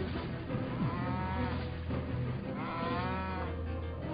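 Cattle mooing, long drawn-out lowing calls that rise and fall, two or three overlapping moos heard alone against a steady low background.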